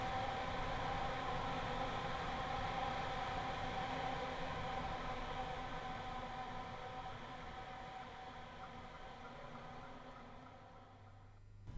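Class 314/315 electric multiple unit in a train simulator game, running under 25 kV AC overhead wires: a steady broadband rumble with tonal motor whine and hum, continuous and close, slowly easing in level toward the end.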